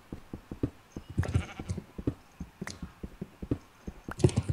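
Sheep in the video game Minecraft bleat over and over, several short overlapping calls in quick succession, fairly close and with no talking.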